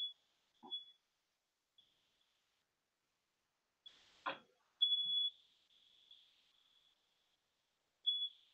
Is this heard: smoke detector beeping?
yes